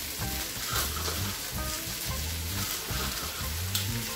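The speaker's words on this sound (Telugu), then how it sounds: "ఇప్పుడు ఇందులోకి కాలీఫ్లవర్ ముక్కల్ని వేసేసుకుందాము." Cauliflower pieces fry on high flame in a pan for gobi fried rice, making a steady close sizzle with soft crackling and stirring movements throughout.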